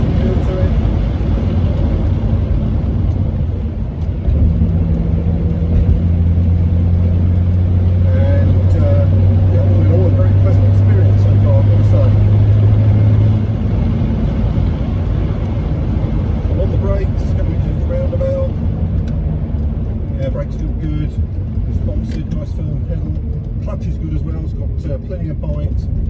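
A 1961 Jaguar Mark 2 with the 3.8 engine drives on the road, its engine a steady close rumble that rises briefly in pitch then settles, with someone talking over it.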